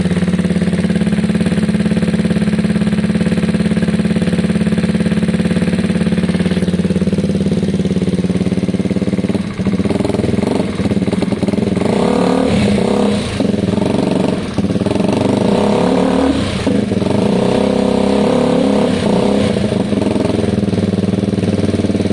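A Gilera DNA scooter engine idles steadily as it warms up, a close, loud mid-pitched putter that turns rougher and more uneven partway through with small throttle blips.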